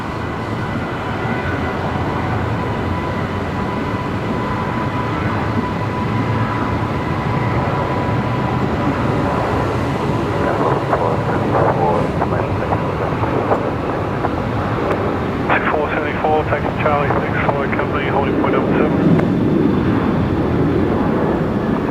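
Virgin Australia Velocity 990 jet departing Brisbane Airport, a long steady roar heard from a distance with wind buffeting the microphone and a rising whine through the back half.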